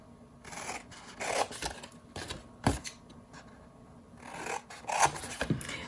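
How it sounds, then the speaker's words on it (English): Scissors cutting card paper while making a small card tote, a series of brisk crisp snips and rasping strokes in uneven bursts, close to the microphone with no talking. "We're going to take our scissors,"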